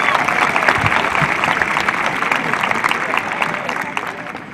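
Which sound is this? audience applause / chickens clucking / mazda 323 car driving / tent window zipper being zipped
audience applause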